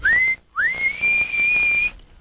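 A loud, clear whistle played as a train sound effect: one short rising blast, a brief gap, then a longer sustained steady tone lasting over a second before it cuts off.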